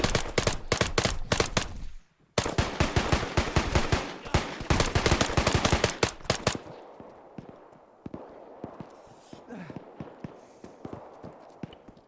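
Rapid bursts of gunfire from a military shooter video game, dense automatic fire for the first six seconds with a brief gap near two seconds, then sparser distant shots and rumble.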